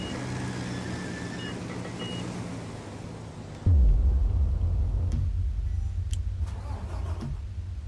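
In Construction Simulator 2 on PS4, a truck that has just unloaded gravel backs up. A low engine hum suddenly swells into a loud rumbling roar partway through, with faint high beeps above it.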